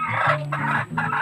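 A native hen clucks close by, three short throaty bursts in quick succession, loud against a quiet background.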